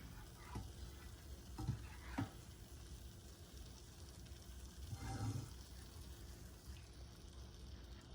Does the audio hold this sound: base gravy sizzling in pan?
yes